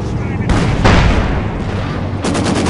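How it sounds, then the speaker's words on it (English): Tank and artillery fire in the video game Company of Heroes 2 rings out as loud, booming blasts with rolling rumble and crackling gunfire, under in-game soldier shouting. "Enemy tank fire! Central front, we have incoming!"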